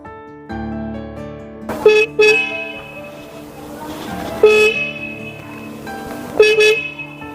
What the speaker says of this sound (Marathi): पागल हॉर्न का वाजवतोयस